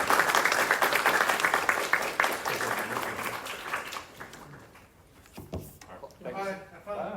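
Applause from a live GenCon audience after a horror panel, loud clapping at first that thins and fades within a few seconds before voices take over.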